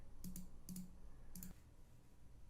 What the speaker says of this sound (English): Do a typing test.